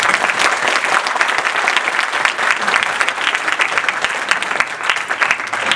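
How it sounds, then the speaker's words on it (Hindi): Loud, dense applause from an audience at a GIS Day address held with NUST, a sustained crackle of many hands clapping close by for several seconds without talk. "इनके लिए तालियां होनी चाहिए।"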